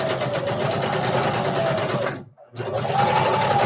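Sewing machine stitching a kids' cotton reversible face mask, a fast, even mechanical whir that stops briefly for a backstitch and then resumes, close and loud.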